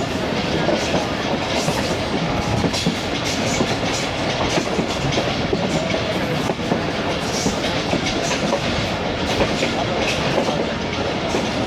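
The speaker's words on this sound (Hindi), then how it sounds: "और अब आपको दिखाते हैं 47 अप रहमान बाबा एक्सप्रेस का एक्शन।" The 47 Up Rehman Baba Express runs slowly out of Bandi railway station, a steady close rumble with clattering wheels and wagon noise that stays loud and unbroken throughout.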